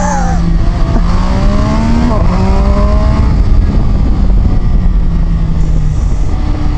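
An MV Agusta Brutale Dragster 800 RR motorcycle accelerates hard on the road, its engine note climbing through rising revs with quick gear shifts, loud and close under heavy wind rush.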